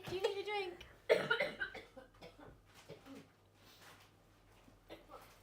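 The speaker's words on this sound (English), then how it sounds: "I'm gonna have to cough" A close cough bursts out, followed by a few softer coughs and throat noises, with faint voices murmuring in the background.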